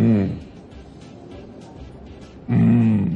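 A man imitates a lion's roar with his voice, two loud throaty growls, one at the start and one near the end, with a quieter stretch between them.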